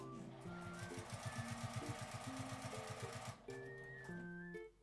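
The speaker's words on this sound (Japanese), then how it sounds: "合わせて横に引いて縫います。" A home sewing machine stitches fabric for a small palm-sized tri-fold wallet, running in a fast, steady, close-up rhythmic chatter with brief pauses as the cloth is repositioned.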